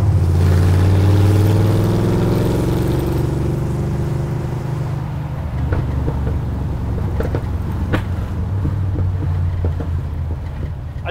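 Ford Falcon XB Interceptor with a mild, stock 351 V8 and a Holley carburetor, droning loudly under wind noise as it eases off from a higher rev, with faint clicks near the end.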